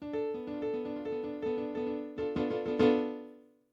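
Plain, clean piano notes from the FL Keys digital piano plugin play a short bouncing pattern of repeated chords, quiet and dry, ending on a final struck chord that rings out and decays.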